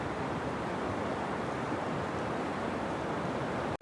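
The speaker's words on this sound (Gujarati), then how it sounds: "અહીંયા છે દરિયો ઘૂઘવાટા મારે છે" Sea waves roar where a river meets the sea, heard as a dense, continuous wash of surf noise mixed with wind buffeting the microphone, with no voices.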